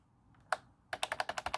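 Keys clatter on the original keyboard of a Macintosh Performa 550: one isolated click, then a quick run of about seven crisp, evenly spaced keystrokes, close and clear.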